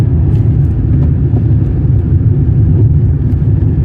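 A car cruising on a national highway, heard from inside as a loud steady low engine and road rumble with no distinct gear change standing out.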